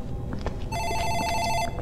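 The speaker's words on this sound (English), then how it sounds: "Let's answer this phone." Telephone ringing in a video game, a single bright electronic ring lasting about a second, clear and fairly loud over a muffled background.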